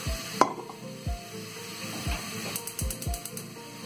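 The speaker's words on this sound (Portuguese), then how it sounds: "vou deixar aqui enquanto vai refogando" Onions and other ingredients sautéing in a pan for a Sunday lunch, a soft steady sizzle with scattered stirring scrapes and clicks, and faint knocks and a short run of rapid taps in the background.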